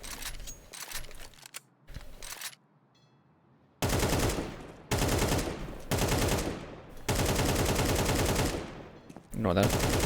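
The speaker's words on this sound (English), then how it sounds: "I don't know if that's how an AK sounds in real life." AK rifle fire from the game Counter-Strike 2 comes as loud, sharp bursts of automatic shots, several long strings with brief gaps between them, close and dominant.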